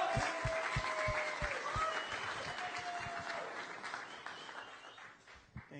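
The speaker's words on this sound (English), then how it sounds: "Big round of applause for Nikita Ababi." Audience at a boxing press conference in New York applauds, a moderate wash of clapping with distinct individual claps near the front, gradually fading over several seconds.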